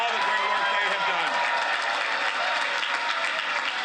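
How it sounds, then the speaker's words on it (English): A large crowd at an election-night event applauds the campaign staff, producing dense, sustained clapping that fills the room from start to finish, with mixed crowd noise underneath. "Great round of applause for all the great work they have done."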